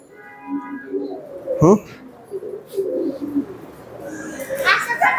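Pigeons coo softly in a loft, low rolling calls recurring through the clip alongside children's voices and brief chatter, with a short sharp call near the middle.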